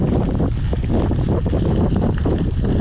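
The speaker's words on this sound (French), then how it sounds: "J'ai le vent de face." Strong headwind roaring and buffeting across the microphone during a mountain bike ride past maize fields east of Paris, loud and continuous with gusty low rumble throughout, no talking.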